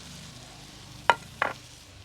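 Onions being stirred and frying in a pan over a wood-fired stove, with a soft background sizzle broken by two sharp, brief scraping clatters of the spoon against the pan.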